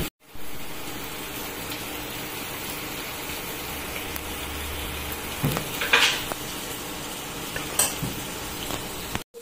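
Spices are stirred into cauliflower florets in a hot pan for phool kopir dom, a steady close sizzle with scraping and clattering stirring strokes scattered across it.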